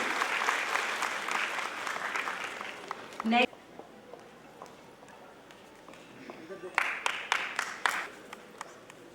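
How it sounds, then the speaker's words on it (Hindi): An audience at a women's empowerment programme in a theatre bursts into applause, a dense clapping that fades, then a second round of clapping rises; an announcer's amplified voice talks over the clapping. "जोरदार तालियां मैम के लिए।"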